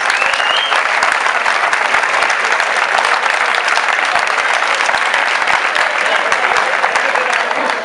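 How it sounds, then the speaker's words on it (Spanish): A crowd at the San Keremos festival in Zaramillo applauds Ignacio Pereira, with loud, dense, sustained clapping and faint crowd noise running evenly for about eight seconds. "Aplauso tremendo a Ignacio Pereira"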